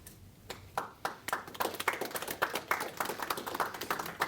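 Scattered hand claps after a presentation at a meeting quickly build into steady, close applause from a small group, the individual claps distinct and rhythmic throughout.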